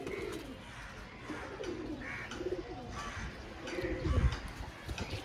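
A rare short-beaked, old-generation pigeon gives a series of throaty, rising-and-falling coos near at hand, with a few other birds in the background.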